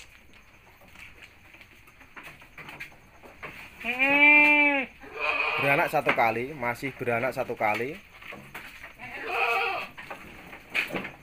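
Goats bleat loudly and close by on a livestock farm, several drawn-out wavering cries in succession, mixed with someone talking throughout.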